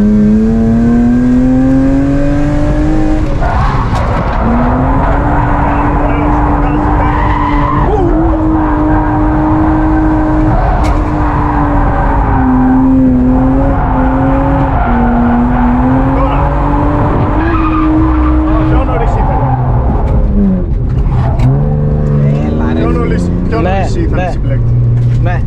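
A drift car slides through corners with its engine revving hard and loud, droning and rising under long sustained tire squeals, with people talking over it.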